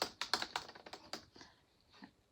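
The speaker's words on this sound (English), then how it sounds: "Let me see if I can type to you." Typing on a computer keyboard, a quick irregular run of crisp key taps close to the mic, thinning out into a few scattered presses at the end, with no voices.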